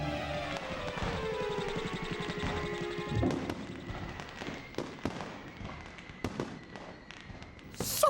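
Fireworks crack and bang in a quick run of sharp blasts, with a rising whistle early on and a bright burst at the very end, moderately loud over a steady background hum.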